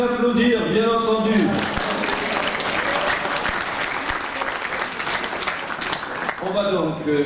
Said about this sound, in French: nous applaudir, bien entendu.